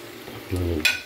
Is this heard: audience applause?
no